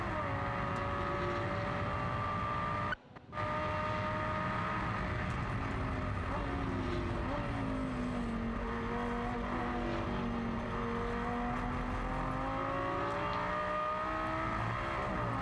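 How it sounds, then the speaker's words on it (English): Lamborghini Super Trofeo race car engine accelerating at Silverstone, pitch climbing and falling through gear changes as the car speeds toward Stowe, heard as steady onboard roar under a commentator's voice. "this glorious noise now as the car sets off down to Stowe"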